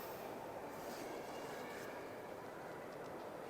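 A 9F steam locomotive hauling a passenger train, heard from aboard as a steady, faint, low rumble of rolling wheels and carriage noise without distinct beats.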